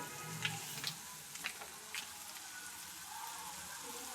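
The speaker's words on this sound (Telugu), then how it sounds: "ఇప్పుడు ఏం చేయాలి, వెల్లుల్లి పేస్ట్ వేద్దాం" Garlic paste sizzles and crackles in hot oil in a pan while egg curry is cooked, a steady faint frying hiss with a few sharper pops, no talking.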